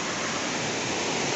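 A river at Serra Azul near Palmares, Pernambuco runs with a strong current after heavy rain. Its dense, steady roar of rushing water is loud and close and never lets up.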